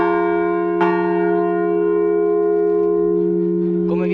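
The largest church bell of Sauris di Sotto, cast by Pietro Colbachini in 1922, struck once and left to hum with a loud, sustained ringing tone that fades slowly, heard close up in the belfry.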